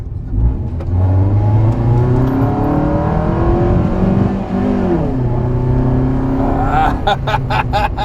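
Up close, a car engine roars as it accelerates, its tone rising through the gears, dipping briefly, then pulling again, with a few ticking sounds at the end from the VVT sensor.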